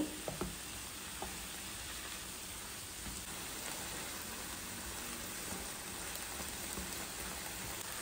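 Chopped boiled broccoli being stirred with pizza sauce in a hot pan, a steady close sizzle and soft scraping from start to finish with no voices.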